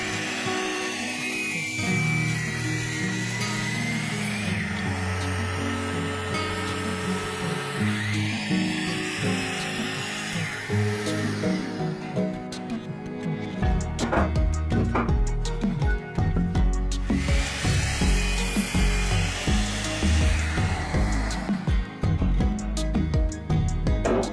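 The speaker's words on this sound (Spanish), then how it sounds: "El siguiente paso es llevar la madera a mi sierra ingletadora." Miter saw cutting wooden boards in a carpentry workshop, its motor whining steadily throughout and growing louder with sharper, gritty bursts of the blade biting through wood in the second half.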